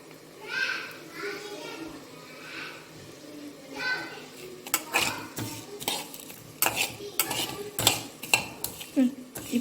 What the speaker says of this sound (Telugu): సో ధనియాలు, మిరియాలు, జీలకర్ర మనం ఇప్పుడు డ్రై ఫ్రై చేస్తాం అన్నమాట.